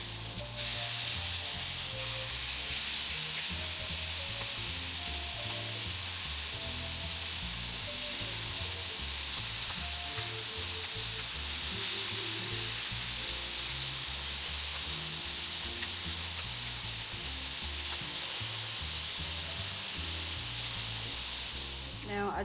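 Scallops searing in olive oil in a skillet: a steady, loud sizzle and crackle of frying close up, continuous throughout with faint occasional stirring or pan movement and no voice over it.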